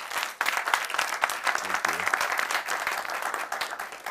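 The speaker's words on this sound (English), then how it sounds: "Please clap for him." An audience applauds a Ghana National Fire Service deputy public relations officer at an event, a full wash of clapping that starts abruptly and continues steadily, with a brief voice audible partway through.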